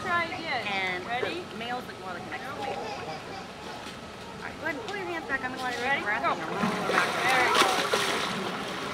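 A trained dolphin rising out of the water on its tail, with repeated splashing and sloshing spread across the clip. A trainer speaks over it, and whistle-like squeals come through the water noise.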